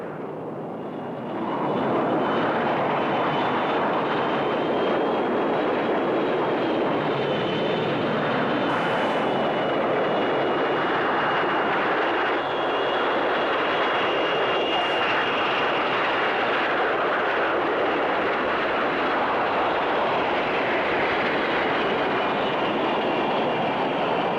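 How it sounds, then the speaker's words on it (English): A space shuttle landing, with a slightly bumpy touchdown; a loud, continuous broadband roar swells in after the first second and holds steady throughout, with no talking. "Despite a small miscalculation from the pilot, which meant that the landing was a bit bumpy, touchdown was made safely"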